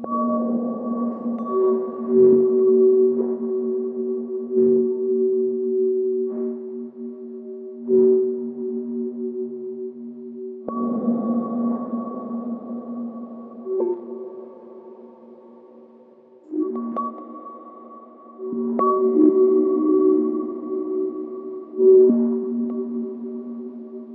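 Sustained synthesizer tones from a XAOC Katowice Eurorack module hum in layered drones with soft swells and plucked accents, fed through reverb and trailing off into a washy reverb tail; no voices.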